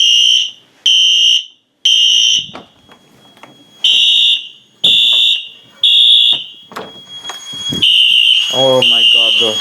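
A ceiling-mounted Wheelock Exceeder fire alarm horn blares loud, shrill pulses in a repeating pattern alongside other alarm horns and strobes during a fire alarm system test, with people talking in the gaps.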